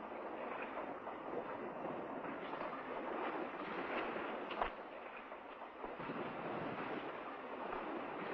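Strong wind roars continuously, a broad rushing gust buffeting the microphone with no voices present.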